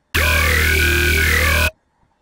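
A buzzy growl synth tone from Massive with a sweeping, vowel-like wow filter, sustained for about a second and a half, then cutting off abruptly into silence.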